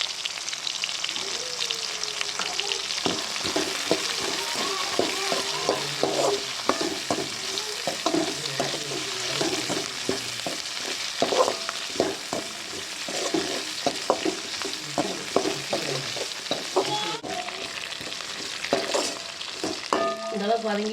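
Curry leaves, coriander seeds, cumin and poppy seeds sauté in a pan for a traditional coconut thuvaiyal, a steady close sizzle broken by frequent scraping stirs, continuing without any talk.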